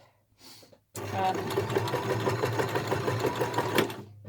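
A sewing machine running a straight stitch at 2.5 length on a beginner glasses case, starting abruptly after a brief pause and whirring in a steady, rapid, close mechanical rhythm for several seconds.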